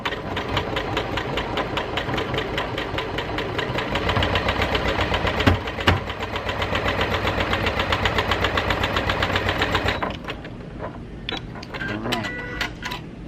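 A Janome sewing machine stitches thick tooled pleather, running with a loud, rapid mechanical chatter for about ten seconds before stopping, followed by a few faint clicks.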